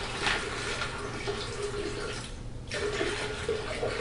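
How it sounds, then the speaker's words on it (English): Clear water pours off settled solids in a steady, moderately loud rushing flow that briefly dips and then resumes, with no talk. "I'm going to go ahead and dump that clear water off and just leave the solids"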